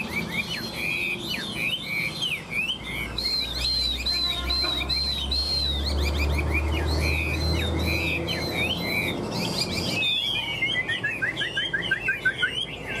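A Chinese hwamei songbird, a wild-caught adult, sings a rich, continuous run of loud whistled phrases and trills, close by, with varied rising and falling notes and a fast descending series near the end.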